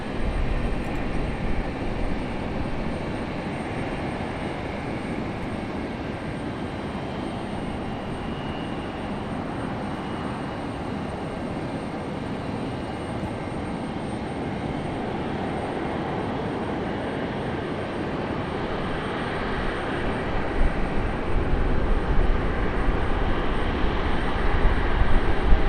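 A Frontier Airlines jet arrives at Raleigh-Durham airport as a steady, broad engine roar. The roar holds throughout and swells slightly toward the end, with no voices.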